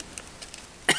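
A single sharp, harsh cough from someone with a bad cough bursts out near the end, after a second of quiet room tone during a craft session making a mini travel-suitcase album.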